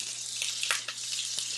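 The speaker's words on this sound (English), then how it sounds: "I love the sound of that sizzle" Food sizzles in a frying pan with a steady hiss and a few louder pops, close and alone for a brief moment.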